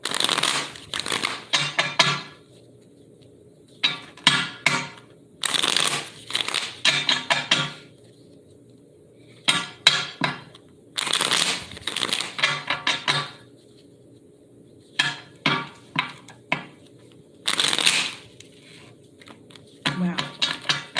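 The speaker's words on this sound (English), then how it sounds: "I'm going to shuffle till Spirit gives me the green light." Tarot cards being shuffled in bursts of riffling and slapping, separated by short quiet gaps, close and fairly clear, with no one talking.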